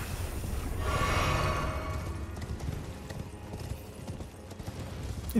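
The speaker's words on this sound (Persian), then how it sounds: "صدای یک موجود سنگین پا میاد." Heavy creature footsteps in Elden Ring: Shadow of the Erdtree, a series of loud, thudding clip-clop steps that swell near the start and then continue more faintly with no voices.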